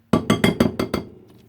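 Dish of couscous set into a microwave: a quick run of six sharp glassy clinks and knocks, close and loud, then fading to quiet, no talk.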